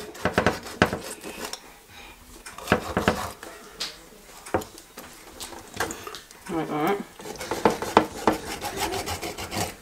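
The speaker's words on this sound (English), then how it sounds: "Cut little grooves in your fish." A knife scores grooves into a tilapia fish on a cutting board, making repeated scraping and tapping strokes up close, mixed with rubbing and handling sounds while a person talks.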